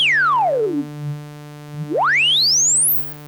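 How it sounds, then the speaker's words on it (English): Self-oscillating 12 dB per octave notch on the Steiner filter of an Arturia MatrixBrute synthesizer, producing a pure sine tone that sweeps smoothly downward, pauses low, then glides back up high before cutting off, heard alone over a steady low hum. "which is just basically a sine wave being moved around"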